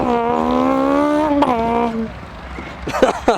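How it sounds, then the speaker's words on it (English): A VTEC-engined Mini at a Scottish performance car show revs loudly with a rising, strained engine tone that then drops off, followed by brief bursts of sound at the end. "A VTEC powered Mini."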